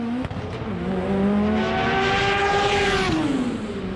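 A drag race car accelerates hard down the track, its engine note rising steadily in pitch with strong harmonics, loud and close, as another engine joins in the background; no voices.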